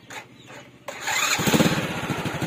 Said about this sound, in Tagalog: So start natin yung motor.